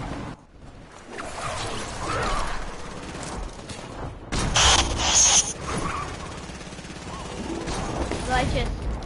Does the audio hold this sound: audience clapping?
no